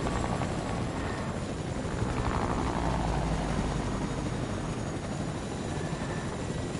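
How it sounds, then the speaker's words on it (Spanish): A helicopter in a shooting video game drones steadily with a continuous rotor thump and engine roar, fairly close and constant throughout, with no talk over it. "Hay otro helicóptero, cógelo, Roberto, cojamos ese."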